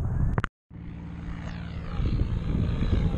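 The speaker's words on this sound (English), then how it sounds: "Advertising plane." A propeller-driven advertising plane drones steadily overhead at a beach on a bay, its engine hum continuous and moderately loud after a brief dropout near the start.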